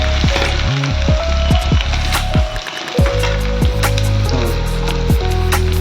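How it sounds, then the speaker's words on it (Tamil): Onions sizzle and crackle steadily in a hot pan, with occasional scraping clicks from stirring over a constant frying hiss. "நல்லா ரோஸ்ட் ஆகிற மட்டும் வதக்கணும்"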